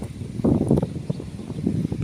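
A strong, cold wind gusts against the microphone outdoors in the countryside, producing a low, uneven rumble that surges and eases throughout, with no voices.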